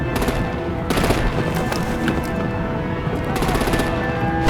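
Rapid machine-gun fire rattles through a Batman: The Enemy Within combat scene, dense bursts of automatic shots coming in waves over a loud, busy background.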